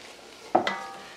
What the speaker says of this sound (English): Give that another quick stir